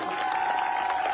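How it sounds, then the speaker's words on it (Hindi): An audience at a wellness product results event applauds, a steady dense wash of clapping heard at moderate distance for a moment, with a voice faintly underneath. "अरे यार इसके लिए ताली बजाओ"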